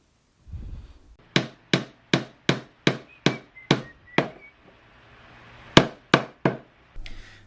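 Hammer blows drive nails into wood while assembling a piggy bank: a steady run of about nine sharp, loud strikes, a short pause, then three more, close by with no talking.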